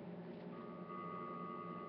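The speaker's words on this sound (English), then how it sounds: "that's the sound of a dial tone" A landline telephone's continuous dial tone, a steady unbroken hum held at an even level with no talk over it.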